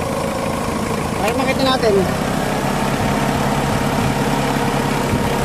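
A Mitsubishi Adventure engine idles steadily just after starting, with the aircon switched on, a low constant hum running under close conversation throughout.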